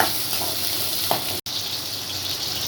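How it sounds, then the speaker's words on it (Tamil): Small shallots sizzling in hot oil in a pan, a steady close frying hiss with faint stirring clicks and a brief cutout midway, no voices over it. "சின்ன வெங்காயம் போட்டுக்கலாம். போட்டு நல்லா வதக்கலாம்."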